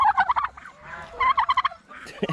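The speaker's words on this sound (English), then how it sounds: "Oh, God, turkeys?" Several farmyard turkeys gobble in quick repeated bursts, close and fairly loud, with short pauses between rounds of calls.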